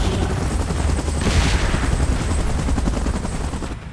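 In PUBG Mobile, a helicopter's rotor chops steadily and loudly throughout, mixed with rapid gunfire and bursts of explosions.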